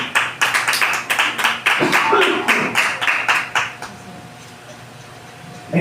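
A church congregation at a Bible Day celebration claps loudly in a fast, steady rhythm for several seconds, then the clapping thins out and fades near the end.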